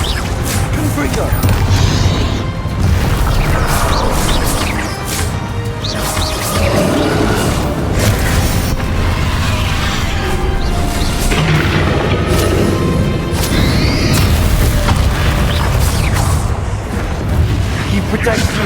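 Confringo spell blasts in the Hogwarts Legacy video game come as repeated booming explosions and crashes amid combat effects, with voices speaking over much of the loud, dense mix.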